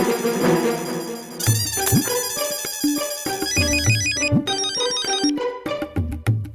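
A mobile phone ringtone plays loudly and close, a bright repeating electronic melody that runs for several seconds without a break and with no talking over it.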